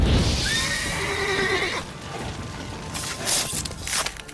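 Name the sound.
horse neighing, spooked by Igni sign in The Witcher 3 video game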